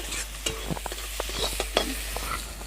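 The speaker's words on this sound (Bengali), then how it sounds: "যত সময় মশলার গাপ থেকে তেল না ছেড়ে দেবে তত সময় নেড়ে চেড়ে নিতে হবে" Masala stirred and fried in oil for a Bengali banana flower (mocha) and egg dish, with close scraping strokes and irregular clatters over a steady soft sizzle, no talking.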